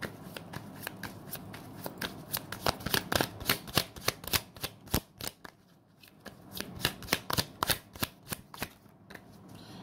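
Tarot cards shuffled by hand in rapid riffling bursts, crisp and close, pausing briefly midway before another run of quick flutters.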